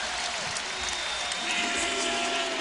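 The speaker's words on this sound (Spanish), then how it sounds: "ahí le aplaude todo el público ahora." An arena crowd at an All-Star slam dunk contest breaks into steady applause, heard at a distance under a commentator's voice.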